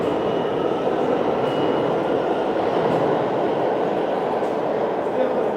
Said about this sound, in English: Take the E, F, M, or R trains here.